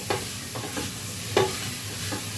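Chicken sizzles steadily in a hot pan with garlic, broken by a few scraping stirs, one louder than the rest.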